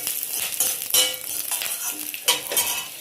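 Peanut chutney ingredients are sautéed in a pan, a spatula stirring and scraping in repeated bursts over a soft, continuous frying sizzle, close and clear with no talk.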